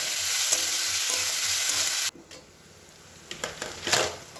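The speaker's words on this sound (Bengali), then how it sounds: "যতক্ষণ না পেঁয়াজ নরম হচ্ছে ততক্ষণ আমি ভাজতে থাকবো" Onions with a pinch of salt and sugar fry in a pan with a loud, dense sizzle that cuts off abruptly halfway, leaving a quieter crackle and a few stirring scrapes and taps.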